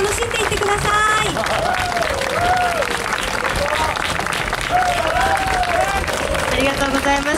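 Outdoor audience applause at the Sumida Street Jazz Festival, dense continuous clapping and cheering filling the whole stretch while a host's voice speaks over it.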